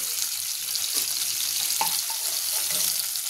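Hilsa fish frying lightly in hot oil, a steady close bright sizzle with small pops and crackles throughout, no voices.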